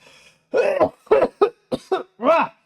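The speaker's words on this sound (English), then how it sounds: "I don't know why I keep coughing so far" A string of rough, close coughs and throat-clearing bursts, six in quick succession with short gaps between them.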